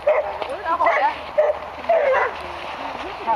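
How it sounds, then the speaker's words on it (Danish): Several dogs barking, yipping and whimpering outdoors at close range in short irregular bursts, with a person talking over them. "Åh, der kom lige nogle hunde der."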